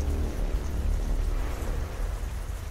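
Steady, dense rain with low rumbling from a night-time wet track in the Assetto Corsa Competizione GT racing game, loud and continuous throughout with no talking.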